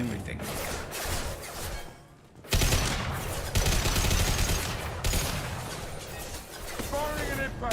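Rapid bursts of heavy gunfire and impacts from the video game Mass Effect, loud and continuous with sharp breaks, while voices speak under the combat.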